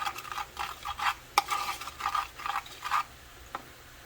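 A spoon stirs xanthan gum into browning low-carb burrito filling in a pan, giving a series of close scraping stirs with a soft sizzle underneath and a sharp clink of utensil on pan partway through.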